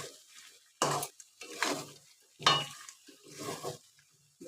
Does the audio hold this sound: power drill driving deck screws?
no